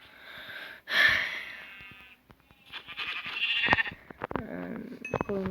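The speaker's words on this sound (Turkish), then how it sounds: "O yüzden koyun kesiyorum." Sheep in the video game Minecraft bleating in a few short, nasal cries, near and clear, separated by quiet gaps and small game sounds.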